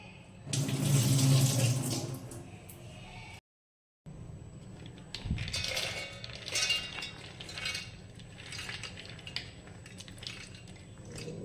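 Water drained from a bowl of soaked lentils being prepared for sev khamani, a steady running pour and splashing that is loudest at the start, then a softer trickle with light drips after a brief gap.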